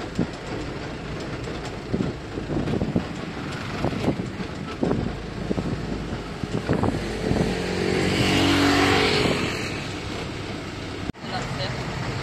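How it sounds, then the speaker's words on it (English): Minibus ride along an island road toward Ko Lanta, a continuous engine drone and road rumble with rattling bumps, swelling louder near the end, with voices talking over it. "Been on this this minibus for quite a while and still not there yet."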